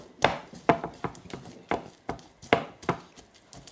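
Pesto ingredients being crushed by hand, with a steady series of dull, close pounding knocks at roughly half-second intervals, each with a short resonant tail, no speech.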